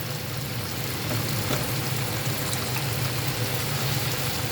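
Mixed vegetables sizzling steadily in a hot pan, a soft continuous frying hiss with faint stirring scrapes, fairly quiet and without talk.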